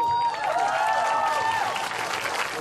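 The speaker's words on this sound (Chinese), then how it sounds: "掌声欢迎" Crowd applause at an outdoor street concert welcoming a band, a sustained wash of clapping and some cheering, with a voice or tone sweeping over it partway through.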